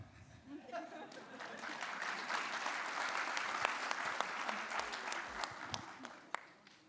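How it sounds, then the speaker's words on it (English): Audience at an accountants' conference in Kuwait breaks into sustained clapping, a dense wash of many hands that swells and holds steady, with some murmuring and a few sharper individual claps near the end. "whenever the Oman chairman raises his hands, people clap"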